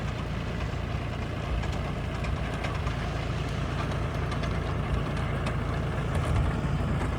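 Tractor engine on farmland, running steadily and fairly loud throughout with a continuous low rumble that holds close, no talk over it.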